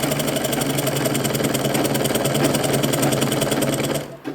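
A sewing machine runs a straight seam along a fold of blouse lining, a loud, continuous close-up whirr of rapid stitching that cuts off near the end.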